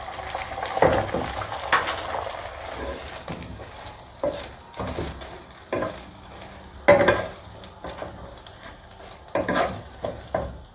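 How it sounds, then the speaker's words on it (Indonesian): Eggs frying in a small amount of oil in a pan, a steady sizzle broken by stirring scrapes and clinks of utensils against the pan, close and with no talk. "sekarang waktunya goreng telur ya, pakai minyak sedikit saja"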